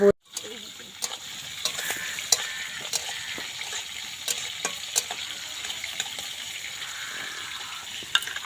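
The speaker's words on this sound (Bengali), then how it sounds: "বড় কড়াইয়ের মধ্যে মাছ ভাজা হচ্ছে" Fish frying in a large wok, giving a continuous close sizzle with scattered sharp crackles and pops over a faint background clatter.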